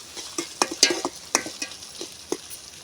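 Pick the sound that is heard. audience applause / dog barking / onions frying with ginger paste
onions frying with ginger paste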